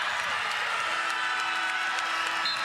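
Basketball fans at a women's college game between Mississippi State and Vanderbilt, steady applause and crowd noise filling the arena, even and sustained with a faint voice over it.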